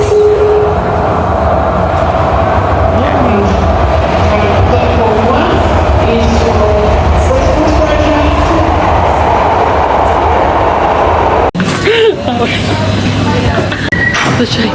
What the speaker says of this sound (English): The train pulled into the station and fully just misaligned with the doors.